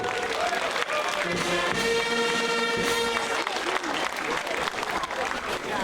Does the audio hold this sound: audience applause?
yes